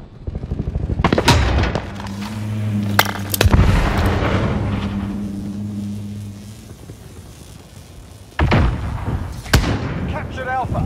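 A missile launch and explosion in an online shooter game sound as heavy booms and sharp blasts, then a sustained low rumble and further impacts. Players talk over the noise.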